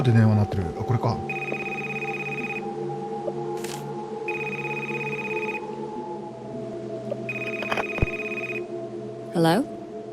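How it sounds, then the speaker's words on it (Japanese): A telephone rings in the horror video game Burnhouse Lane, sounding as repeated electronic ring bursts separated by pauses, while a person talks over it. "どこで電話鳴ってる？"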